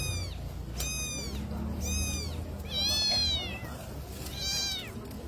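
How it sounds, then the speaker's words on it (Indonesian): A cat trapped in a drain meows loudly and clearly, about five rising-and-falling cries spaced roughly a second apart, over a low background rumble. "petugas penyelamat dari Mako melakukan evakuasi seekor kucing yang terjebak di saluran pembuangan"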